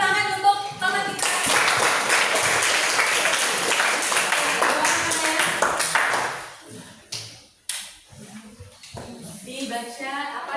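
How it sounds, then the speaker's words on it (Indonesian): Classroom applause for a group of students coming forward to present, a dense burst of many hands clapping that fades out after about seven seconds, followed by scattered taps and voices talking. "tepuk tangan untuk teman kita"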